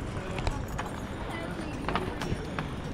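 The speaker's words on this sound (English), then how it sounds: "Should we go on a horse carriage ride?" Horse carriage hooves clip-clop on pavement at a busy Krakow winter market, sharp knocking steps in an uneven rhythm under constant crowd chatter and nearby talking.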